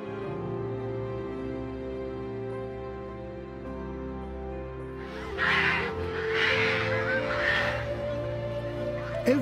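A vast seabird colony on the Peruvian coast fills the air with a constant low drone of massed calling, then louder raucous squawks and honks rise over it halfway through.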